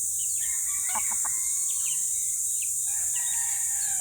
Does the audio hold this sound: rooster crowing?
yes